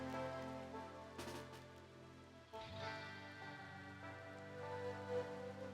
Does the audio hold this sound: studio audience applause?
no